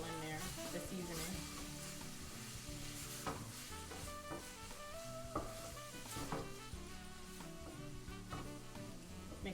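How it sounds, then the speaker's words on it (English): Carnitas sizzling in a cast iron skillet as seasoning is stirred in, a dense continuous frying crackle with scraping stir strokes, close, over faint background music or talk. "first I'm going to mix it all in there, the seasoning."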